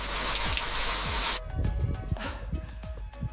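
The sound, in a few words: heavy rain falling in the mountains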